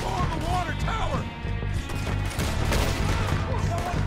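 Rapid gunfire from a Western shooter, Red Dead Redemption, crackles in dense bursts throughout, layered over a steady game score with loud mixed effects.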